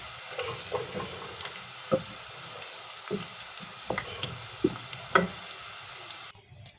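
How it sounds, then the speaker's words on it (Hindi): Onions browning in oil in a pan for chickpea curry, a soft steady sizzle broken by repeated spoon scrapes and clinks at uneven intervals, fading quieter at the very end with no voices. "जब तक प्याज हमारी ब्राउन हो रही है"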